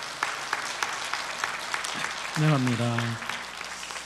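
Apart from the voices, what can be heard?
congregation applauding to welcome new church members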